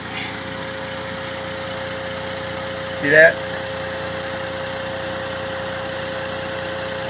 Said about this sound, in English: Normal sound of the engine